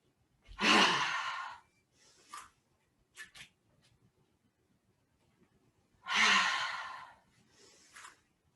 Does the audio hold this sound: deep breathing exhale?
yes